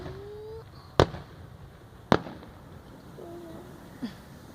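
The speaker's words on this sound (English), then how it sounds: "We're trying to watch the fireworks in peace." Fireworks go off in three sharp, separate bangs, each followed by a brief crackle, with thin whistling tones between them; the last burst sounds softer and more distant.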